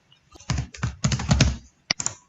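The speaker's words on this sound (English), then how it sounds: "I'm going to, again, customize the inside here and type in first name." Typing on a computer keyboard to enter a form field label, a quick close burst of firm keystrokes followed by a short pause and two final taps, loud and clear with no talk.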